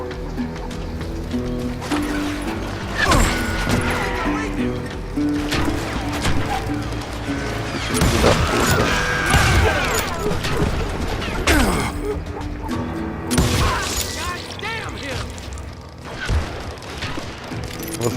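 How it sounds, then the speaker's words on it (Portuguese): Revolver gunfire in the Western shooter Call of Juarez: Gunslinger, sharp booming shots and crashes scattered through a loud game mix of music and effects, with someone talking at times. "Você usar os dois revólveres."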